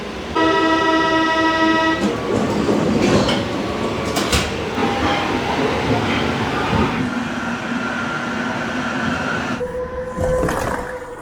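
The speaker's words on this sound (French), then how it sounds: "j'ai mon métro dans 2 minutes" Early-morning metro train in Marseille rumbling loudly through a station, with a rising whine at the start, a brief toot, squeals and steady rolling noise, heard close with no talk.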